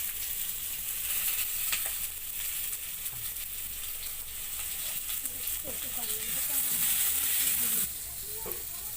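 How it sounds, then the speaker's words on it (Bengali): Cut potatoes fry in oil while a chicken kosha is prepared, making a continuous, close sizzle and hiss. A faint voice is briefly audible beneath it. "এবার আলু কেটে ভাজা হচ্ছে"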